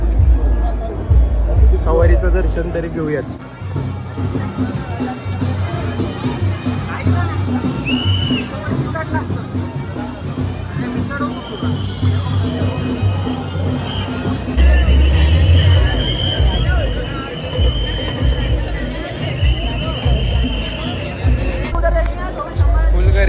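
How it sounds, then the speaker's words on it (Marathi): Dense crowd hubbub during the royal procession (shahi sawari) at Mahakal temple in Ujjain, a steady loud babble of many voices close around, with someone speaking over it and rumbling traffic or drums underneath. "एवढी गर्दी आहे आता इथं, उभा राहायला पण जागा नाहीये."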